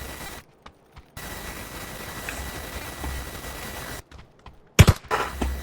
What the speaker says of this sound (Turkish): Tabanca. Bak silah olarak tabanca kullanacağım.